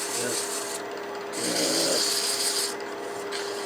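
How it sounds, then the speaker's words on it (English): A wooden rook chess piece box gets sanded with 240-grit paper, a close, steady rasping rub that swells into a louder, rougher pass midway and then eases back, with no talking. "I probably should go ahead and sand the front of this while I'm thinking about it"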